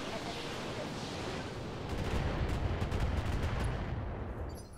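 Mech weapons firing in the Roguetech video game, a dense rumbling barrage of blasts and crackling impacts swelling midway, loud and continuous, with no talking.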